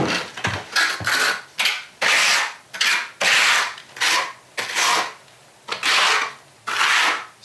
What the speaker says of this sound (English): I'm gonna go ahead and start spreading my thin set.